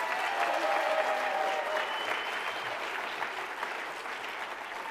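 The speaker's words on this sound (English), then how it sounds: "Can I please get another round of applause for Finley?" Sustained audience applause at a youth citizenship awards ceremony, steady and full throughout before easing slightly toward the end, with a faint voice briefly under the clapping.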